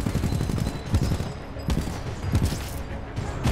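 Rapid rifle gunfire in the Titanfall 2 campaign, several bursts of sharp shots cracking close and loud over a busy battle din, with no talk.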